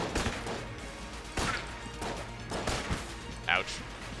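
Noob cannon fire in the game Enter the Gungeon, several loud sharp blasts spaced irregularly among game effects, with speech over them.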